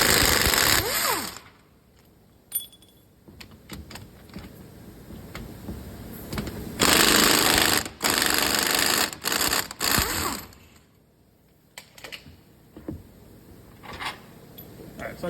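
On a 2022 Chevy Silverado 2500, a power tool buzzes in several short bursts and one longer run while removing steering box bolts, with clicks and metallic clanks between, close and fairly loud; someone talks at times.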